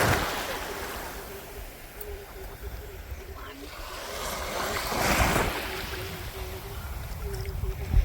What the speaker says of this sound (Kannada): ಅರಬ್ಬಿ ಸಮುದ್ರ.